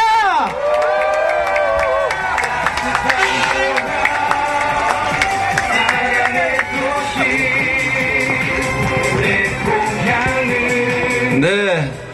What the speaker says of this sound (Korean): 우리 큰 박수로 이재명 대표님 환영합시다.